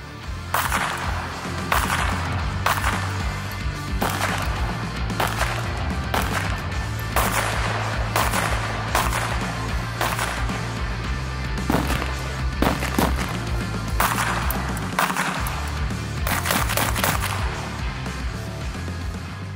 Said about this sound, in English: From now on, we're ready to shoot.